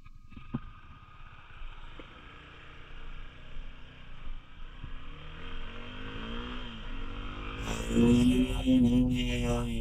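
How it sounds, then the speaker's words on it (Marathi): A Suzuki SX250 motorcycle sets off on a ride, its steady engine drone building and rising in pitch toward the end as it accelerates, heard close with road and wind noise. "बसलेला आहे सुझुकी SX250 आणि माझी गाडी आहे विशालाकडे. सो आता निघूयात आपण हळूहळू."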